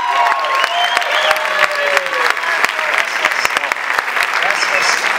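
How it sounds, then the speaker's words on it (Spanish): Theatre audience applauding at the closing performance of La Jaula de las Locas, loud sustained clapping with cheers and raised voices mixed in, close and full. "Un aplauso para él."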